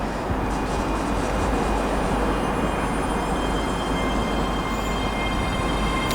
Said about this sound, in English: departing now is going to be the 1032 ScotRail service to Dunblane from Edinburgh with 385109